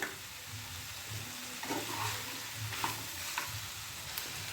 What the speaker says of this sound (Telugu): ఇదంతా టెన్ టు ఫిఫ్టీన్ మినిట్స్ వరకు ఇట్లా ఫ్రై అవ్వనివ్వండి